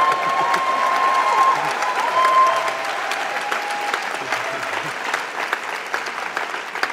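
A large audience at the Labour Party Conference, October 2023, applauds loudly and continuously, the clapping slowly easing off, with a faint whistle in the first moments.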